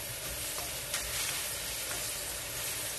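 Garlic and onion fry in a pan with a mushroom and chicken dish, giving a soft continuous sizzle with a couple of faint stirring scrapes, quiet and without speech.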